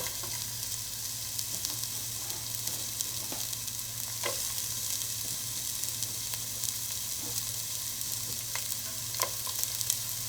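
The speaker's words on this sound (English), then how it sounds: "Onions in. I'm going to cook these out to the golden brown." Onions frying in a pan for a simple vegetable curry, a steady close sizzle with occasional louder crackles and stirring clicks, no voices.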